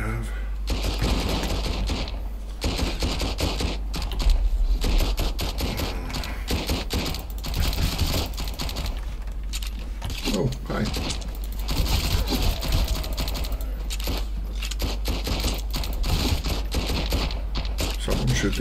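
Sustained gunfire during a base raid in the Sunkenland survival game, dense crackling bursts running nearly continuously at moderate distance, with a person talking over parts of it.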